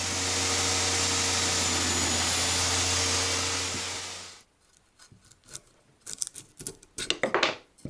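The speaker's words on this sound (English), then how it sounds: "here I'm cutting a notch for the guide blocks" A power tool nibbling a notch in solid maple guide blocks for a homemade band saw, a loud steady whine for about four seconds, then the motor cuts and gives way to scattered clatter of handling the workpiece.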